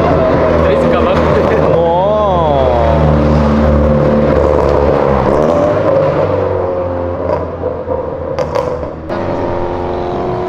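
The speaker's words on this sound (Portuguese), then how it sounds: "Eram 2 carros passando só" Two cars roar past close by, with engine tones sweeping up and down as they accelerate and fade. A louder rev swells early, then the sound tails off into road noise and a few knocks.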